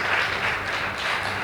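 An audience at a school debate competition between St. Anthony's Boys High School and Uasin Gishu breaks into a round of applause, a dense, even wash of clapping hands that stays steady and fairly loud for the whole moment.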